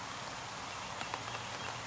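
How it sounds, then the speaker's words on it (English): Rain falling outdoors makes a faint, steady hiss with soft scattered drops tapping nearby surfaces, quiet and continuous with no voices. "It's starting to rain on me and it's beautiful."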